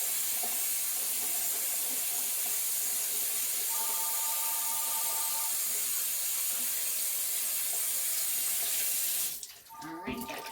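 Kitchen tap water runs steadily into a metal strainer holding cooked spaghetti, a loud continuous splashing hiss that fills the whole stretch, with a brief sharp clatter near the end.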